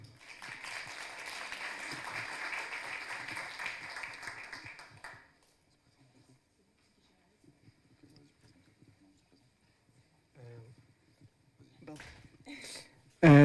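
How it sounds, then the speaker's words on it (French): Audience at a workplace presentation applauding the team behind a relocation improvement project, a loud burst of clapping for about five seconds that then stops, leaving quiet room noise and a few faint sounds. "Vous pouvez applaudir maintenant l'équipe qui a travaillé sur le Kaizen déménagement."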